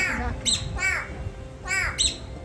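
At Ueno Zoo in Japan, birds such as a Lidth's jay and a crowned hornbill give about four harsh, crow-like caws in two pairs, fairly close over a faint background hum.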